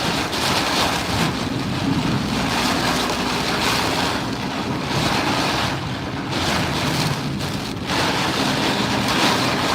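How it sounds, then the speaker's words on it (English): A heavy cumulonimbus thunderstorm with strong wind pours down outdoors: a dense, constant roar of rain and gusts with a deep low rumble underneath, loud and unbroken throughout. "cumulus nimbus thunderstorm over us."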